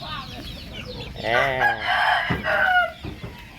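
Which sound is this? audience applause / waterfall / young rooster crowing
young rooster crowing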